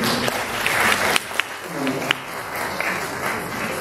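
Audience applause welcoming Prof. Dr. Stephen Thng at a talk on melasma management; a steady, moderately loud round of clapping fills the room, with a few sharper individual claps standing out.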